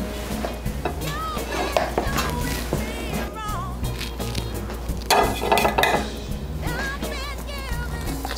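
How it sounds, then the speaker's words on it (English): Utensil stirring food in a pot during a cooking session, with clinks of metal on cookware and light sizzle running steadily throughout, busier clattering bursts near the middle and end, amid background kitchen noise. "And then you can stir, and we're good."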